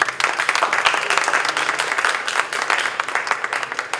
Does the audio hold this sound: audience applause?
yes